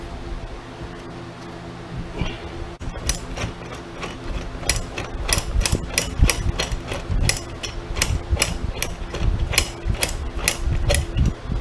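Tool threading a rivet nut into a car roof mount, a rapid series of loud close ratcheting clicks repeating in a steady rhythm over a continuous mechanical hum.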